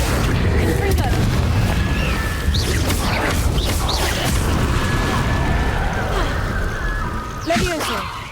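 Confringo spell blasts explode in Hogwarts Legacy gameplay over a dense, steady rumble, with a voice heard in the mix.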